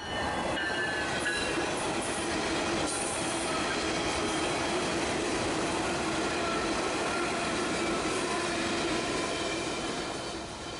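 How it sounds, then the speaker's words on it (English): A Metra Highliner electric commuter train on the Metra Electric District in Chicago passes close by with a continuous rumble. Wheel squeal and rail clatter run along the whole stretch, with no voices. "Here we managed to see a few Metra Highliners in action."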